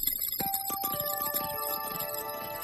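A cartoon telephone rings with a bright electronic ringtone of repeated tonal chirps and sustained beeps, clear and close, alone without talking.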